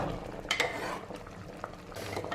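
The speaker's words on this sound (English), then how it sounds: "After 7-8 minutes you can stir it a bit." Smoked pork with kidney beans being stirred in a pot, giving a few soft scraping and clinking strokes at close range over a low steady simmer.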